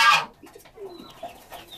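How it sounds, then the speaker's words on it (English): Homing pigeons in a loft give a few soft, low coos close by, following a brief burst of rustling or wing noise at the start. "These 2 pigeons here,"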